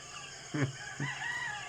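A rooster crows from a backyard chicken coop at home, two short calls in quick succession, fairly close and clear over a steady background hum.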